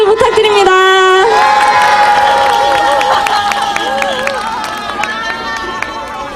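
A crowd at an outdoor Korean rally cheers and claps loudly for a singing group, with shouts and whistles over sustained clapping while tonal music or voices carry through it.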